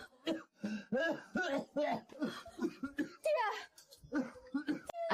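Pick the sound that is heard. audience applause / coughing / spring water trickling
coughing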